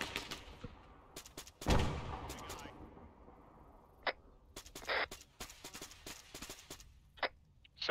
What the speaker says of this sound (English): Frag's out.